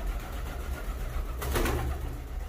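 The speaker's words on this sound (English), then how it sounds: "Pigeons." Pigeons coo faintly inside an abandoned old cinema, a soft murmuring call over steady low room hum, with a brief burst of flapping wings midway and no talking.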